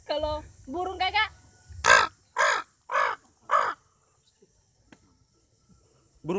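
A voice mimics a crow with four loud, harsh caws spaced evenly about half a second apart, after a couple of brief spoken syllables, then quiet with faint clicks, performed on stage at an animal-imitation show.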